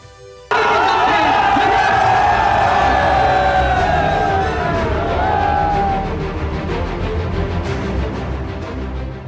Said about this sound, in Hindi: पाकिस्तान के बड़े नेताओं की रैली में लाखों लोगों की भीड़